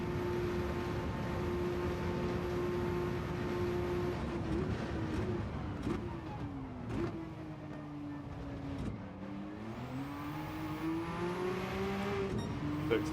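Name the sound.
car engine noise in Gran Turismo 7 video game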